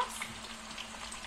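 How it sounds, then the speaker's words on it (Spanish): Potatoes frying in a pan at home, a faint, steady hiss of sizzling oil, brief and fairly quiet with no voices. "Y ahora fríen las patatas."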